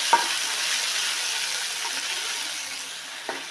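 Tomatoes sauté in a pan for a roasted gram kurma, a continuous bright sizzle with a couple of light spatula knocks, close and steady with no talking.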